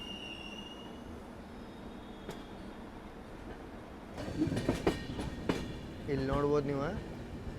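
Train running through the Shiradi Ghat section, with steady rumbling wheels, sharp clicks and rising wheel squeal and screech toward the end; someone speaks briefly over it.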